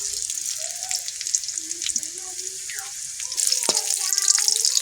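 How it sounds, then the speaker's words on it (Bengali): Dried red chillies fry in oil in a wok with a steady hissing sizzle, close and loud, and a few clinks and scrapes from stirring. The sizzle rises near the end. "কড়ায় তেল দেবো শুকনো লঙ্কা কাটে দাও"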